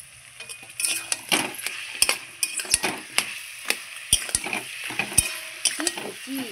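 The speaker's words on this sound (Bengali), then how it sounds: "এই দেখুন আমি মাছের মাথাগুলো ভেঙে চাল কুমড়োর মধ্যে দিয়ে দিচ্ছি।" Broken katla fish heads being stirred into cooking ash gourd in a kadai, with repeated close scraping and knocking of the spoon against the pan over a steady sizzle.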